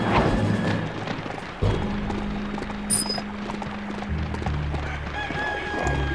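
Chickens cluck and a rooster crows in short game sound effects from Shrek 2 on PS2, set at Jack and Jill's farm, over a looping music track with brief chimes.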